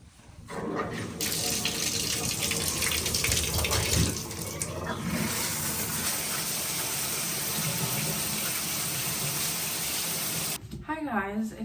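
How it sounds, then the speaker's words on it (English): Shower water runs in a steady, loud broadband rush that fills nearly the whole stretch, with a brief voice near the very end. "then I'm gonna hop in the shower"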